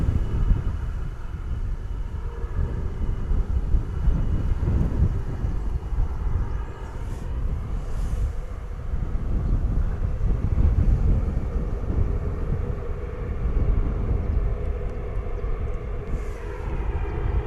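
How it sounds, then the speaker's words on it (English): A turboprop ATR airliner with Pratt & Whitney engines drones steadily at an airport at sunrise, a loud continuous rumble mixed with wind buffeting the microphone, with no speech. "Loving the sound of those Pratt & Whitney engines on the ATR."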